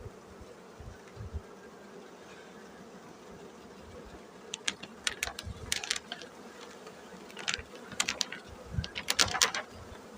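Honey bees buzz around an opened polyurethane foam hive during a spring inspection. A low, steady hum sits under scattered louder buzzing passes and faint handling clicks that build toward the end.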